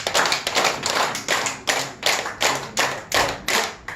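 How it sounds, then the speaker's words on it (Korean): A church audience at a laughter-healing session claps in unison about ten times, each sharp, loud beat landing evenly roughly every 0.4 seconds with brief gaps between, with no talking over it. "박수를 열번 쳐주세요"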